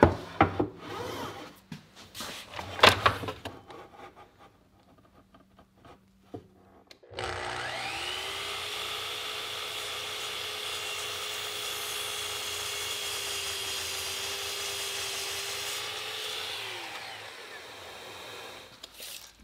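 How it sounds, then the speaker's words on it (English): Knife handle mortise being cut with a handsaw in a scattered run of rasping strokes, then a loud steady motorized whine that holds until near the end. "I'm making the first cross cut a little heavier than 1/8 inch from the edge of the mortise."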